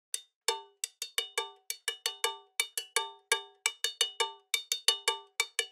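Percussion loop for a hip hop beat built from bright, cowbell-like metallic hits in a brisk, repeating syncopated pattern, clean and dry with silence between strikes.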